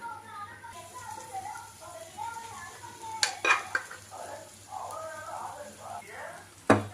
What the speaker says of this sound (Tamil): இப்போ இந்த சோறை போட்டு நல்லா பிரட்டி விடணும்.